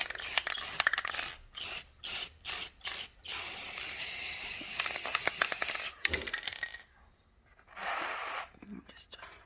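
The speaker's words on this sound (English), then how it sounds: "Try not to spray too much, or I don't want to spray in my garage" Spray paint hisses from a can in a garage during a Valentine's Day craft project: several short rhythmic bursts, then one long steady close spray that stops and starts again, with a voice talking softly.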